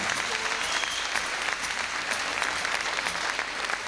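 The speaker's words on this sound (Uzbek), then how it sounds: "Guldiraz qarsak." A concert hall audience at an orchestra performance claps loudly and steadily, a dense, sustained wall of applause throughout.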